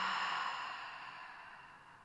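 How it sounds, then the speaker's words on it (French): A single deep, slow exhale of breath during a gentle breathing exercise, airy and close, fading steadily over about two seconds with no talking. "j'inspire et j'expire"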